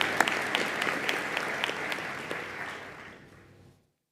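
Audience applause for Dr. Mojok at a college presidential inauguration, with distinct sharp claps over a warm crowd wash that tapers off and stops.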